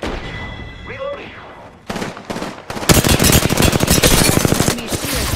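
Rapid automatic gunfire in Apex Legends on the Kings Canyon map, loud and close, with dense bursts after a quieter stretch with some talk and tones.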